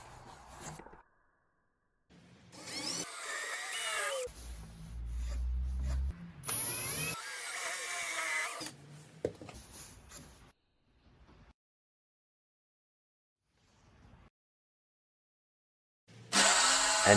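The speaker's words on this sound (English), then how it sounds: "I drill 4 holes 70mm apart with a 10mm Forstner drill bit." A power drill with a 10mm Forstner bit bores holes in wood in several bursts, spinning up and cutting with grinding, whining tones, separated by short pauses and quiet stretches.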